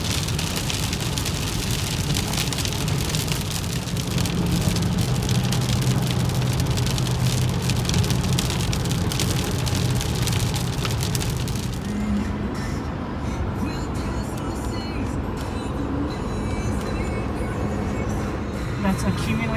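Heavy spring thunderstorm rain in California, with big drops and hail, pounds down in a dense, steady, loud roar for the whole stretch, a vehicle's hum faintly underneath.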